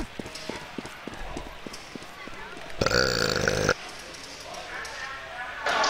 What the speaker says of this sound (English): Did somebody burp?